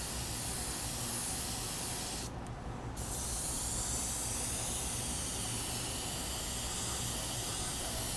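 A spray gun applies paint to an '81 Monte Carlo outside a spray booth, a steady close hiss running almost continuously with one brief break partway through.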